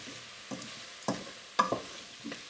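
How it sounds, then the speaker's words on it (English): A spoon stirs leek and potato soup seasoned with thyme and pepper in a pot, giving a few soft, separate scraping strokes with light sizzling between them, quiet and close with no voices. "stir them again a bit"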